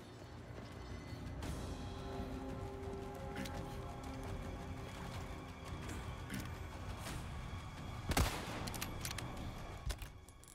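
Enemies firing guns at the player in Resident Evil 4, heard as faint, scattered crackling shots over a busy low game ambience, with one sharper, louder report near the end.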